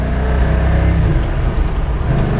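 A purple 1970 Plymouth 'Cuda AAR, rated at 290 horsepower, accelerates with a loud, close, rumbling engine note that builds steadily and masks everything else.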